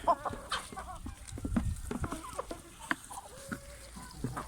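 Several chickens cluck softly and intermittently nearby while eating grass, with faint pecking and rustling underneath, fairly quiet overall.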